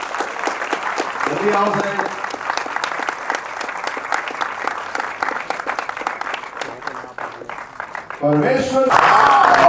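A film premiere audience for the Gujarati movie Jeev claps steadily as actors are called to the stage, with a dense ongoing round of applause that swells louder near the end while an announcer speaks over it.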